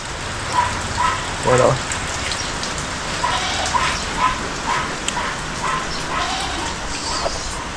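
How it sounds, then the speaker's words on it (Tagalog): Steady rain patters on a surface throughout, with a dog barking a few times in the background and faint voices. "Maulan, sana tumigil na ang ulan."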